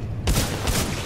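Burst of enemy gunfire in the video game Titanfall 2: a loud, sharp volley of rapid shots, close and harsh, lasting about a second.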